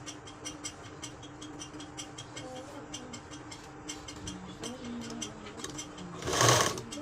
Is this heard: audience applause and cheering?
no